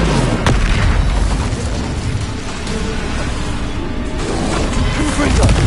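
An Incendio fire spell in Hogwarts Legacy bursts loudly with a heavy boom. A dense, roaring blast and crackle fill the whole stretch at close range, alongside other combat noise.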